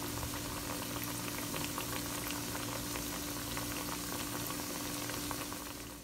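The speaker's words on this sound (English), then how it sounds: "You're just going to put it into some hot oil, fry them, that's it." Chicken pieces frying in hot oil for curry chicken, a steady, dense sizzle and bubbling that stays loud and close throughout with no voices.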